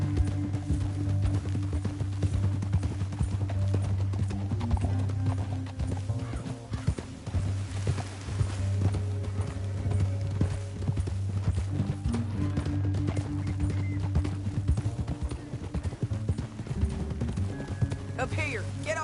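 Steady galloping horse hooves clip-clop throughout in Red Dead Redemption 2, with a low rumbling bed and voices talking intermittently over the top.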